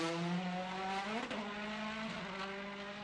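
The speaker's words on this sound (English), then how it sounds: "you can hear the car peaking in the rev range as they go over the undulations" Front-wheel-drive Volvo S60 Polestar touring race car in WTCC qualifying at Macau, its engine screaming high in the rev range with a sustained harmonic whine and pitch dips over bumps, loud and continuous.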